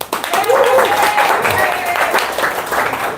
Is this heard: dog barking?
no